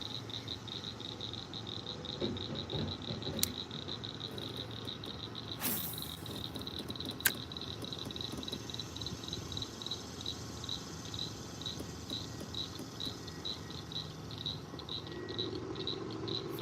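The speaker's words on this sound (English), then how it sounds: "Frogs croaking." Frogs and crickets call at night by water fishing spot, a steady pulsing chirr repeating evenly throughout, with a few faint clicks and knocks, no talk.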